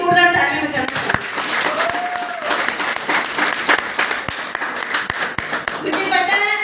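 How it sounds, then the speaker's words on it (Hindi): Seminar audience applauding, dense loud clapping from many hands sustained for several seconds, with a voice speaking at the start and end and a brief tonal whistle partway through. "मैं आप सब लोगों के लिए जोरदार तालियां बजाना चाहती हूँ"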